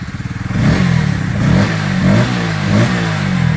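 A Bajaj Pulsar N150 motorcycle in full, accident-free condition runs close by, with a throbbing idle that jumps into a loud rev and then holds a steady, slightly fluctuating engine drone.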